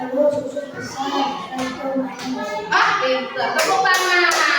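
Children applauding together in a classroom, a dense wash of hand claps under a teacher's voice and kids' chatter, steady and fairly loud throughout.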